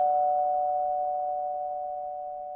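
A single sustained electronic chime rings out and slowly fades, clean and steady, with no other sounds around it.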